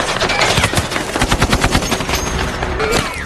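Rapid automatic gunfire in a firefight scene from the film 13 Hours, a dense, loud burst of overlapping shots continuing throughout, close and intense.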